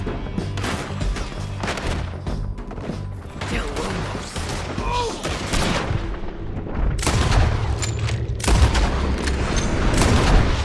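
A Red Dead Redemption 2 gunfight in a town, with dense, continuous rifle and pistol fire, heavy booms and crashing impacts that build louder toward the end.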